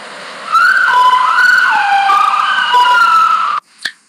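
An ambulance siren wails loud and close in a continuous sweeping tone for about three seconds, then cuts off abruptly, followed by a short sharp knock.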